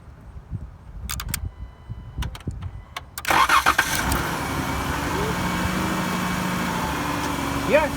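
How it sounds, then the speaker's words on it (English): A Dodge Caravan cranks with a few clicks and then catches, its engine settling into a steady idle close by. Someone speaks faintly over it. "All you need to do is now start the car, and the car should function properly."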